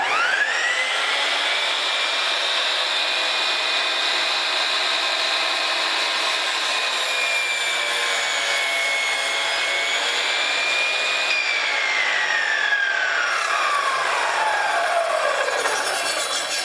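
A Harbor Freight compound miter saw whines at high speed, steady and loud, as it cuts through a clamped board, then the pitch falls as the blade spins down near the end.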